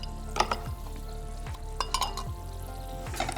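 About a tablespoon of chopped jalapeños frying in a hot pan, a soft steady sizzle broken by a few sharp utensil scrapes and clinks.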